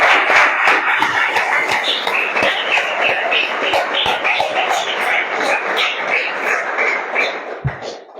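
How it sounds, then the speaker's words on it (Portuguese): A church congregation claps together during a teaching service in Mercês, Minas Gerais, producing steady, dense, rhythmic clapping that fills the room and continues throughout. "as palmas celebram o Senhor"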